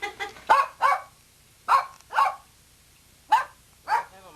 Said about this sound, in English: No, take a picture of the puppy.